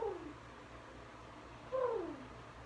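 A person's voice imitates a pigeon's cooing during a yoga stretch, giving two soft, descending coos, the second slightly louder, over quiet room tone.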